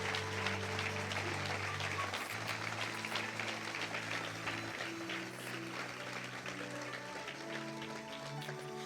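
A church congregation claps along through a sung worship passage, the handclaps steady and dense beneath sustained organ or keyboard tones and singing.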